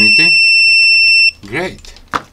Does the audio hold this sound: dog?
no